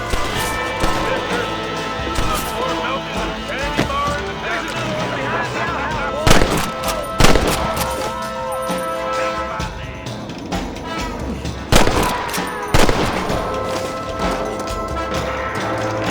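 Gunfire rings out in the Western video game Red Dead Redemption, loud repeated shots and booming blasts over a dense battle din, with voices calling out amid the firing.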